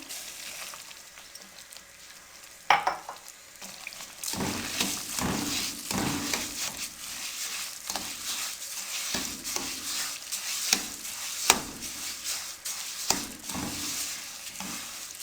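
Egg and semolina halwa with sugar being stirred as it fries in a pan, loud repeated spatula scrapes and pushes over a continuous sizzle, close and rhythmic, with a sharp clatter early on and no talking.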